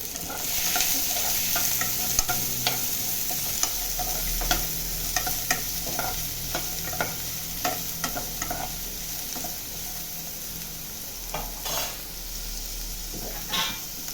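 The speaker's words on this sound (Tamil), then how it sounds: "இப்போ கட் பண்ணி வச்ச வெஜிடபிள்ஸ் பீன்ஸும் கேரட்டும் போடுறோம்." Sliced beans and carrots being stir-fried in a hot pan for vegetable fried rice, with steady sizzling and repeated sharp scrapes of a spatula tossing the vegetables, close and continuous.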